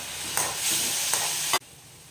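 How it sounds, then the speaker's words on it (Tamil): Onion, tomato and ginger garlic paste are sautéed in a pan with a close, steady sizzle and a few stirring scrapes, ending abruptly after about a second and a half. "வெங்காயம் இப்போ வந்து தக்காளி கொஞ்சோண்டு இஞ்சி பூண்டு பேஸ்ட்டு இதை சேர்த்து நல்லா வதக்கிக்கலாங்க"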